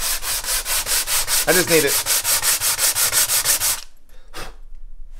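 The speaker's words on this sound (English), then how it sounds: "just take my 180 grit here and I'm just gonna give myself a nice clean edge, something nice and flat" Rhythmic back-and-forth strokes of 180 grit sandpaper flattening the edge of an acoustic guitar end graft, steady and close for several seconds, then stopping, followed by a brief quiet voice.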